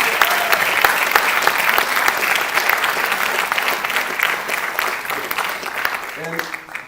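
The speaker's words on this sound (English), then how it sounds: "Big applause to Southwest," Sustained applause from a crowd at a council meeting's general assembly: dense, even clapping that holds steady throughout, fairly loud and close, with a brief voice emerging near the end.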